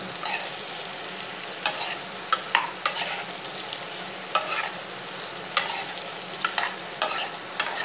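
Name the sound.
whole bitter gourd frying in oil, stirred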